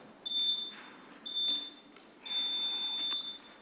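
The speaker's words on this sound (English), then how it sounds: "the beeps are coming" Three electronic beeps, each about half a second or longer, separated by short gaps, mark a speaker's turn at a city council meeting; the tones are clear and steady over faint room noise.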